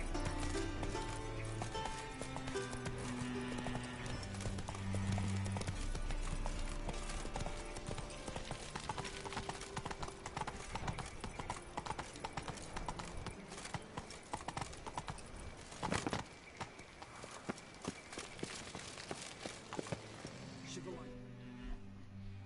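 Hoofbeats of the horse Roach in The Witcher video game, a steady clip-clop gallop running continuously under game music and sound effects.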